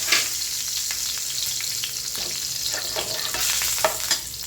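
Raw banana slices fry in a spice masala of chilli powder, salt and turmeric over low heat, giving a close, continuous sizzle broken by scraping stirs and a few light clinks, with nobody talking.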